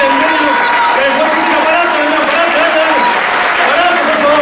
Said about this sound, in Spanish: Un aplauso para ese monstruo.